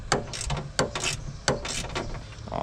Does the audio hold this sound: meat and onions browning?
no